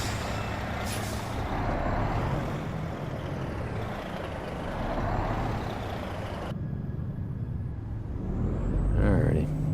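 A truck's air brake in American Truck Simulator: a loud idling engine rumble runs throughout, then a sharp hissing air release near the end, with engine noise continuing.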